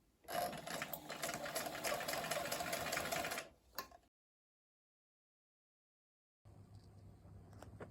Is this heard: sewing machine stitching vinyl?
yes